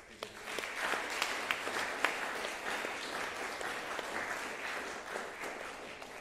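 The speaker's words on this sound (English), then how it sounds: "So can we give Ryan one more round of applause for that?" An audience at a tuba recital applauds steadily and somewhat distantly for the performer, a sustained even patter of many hands with no talk.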